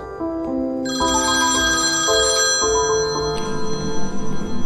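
Telephone ringing in a creepy horror video game, a loud tonal electronic ring with shifting sustained pitches that swells and continues steadily, heard alone.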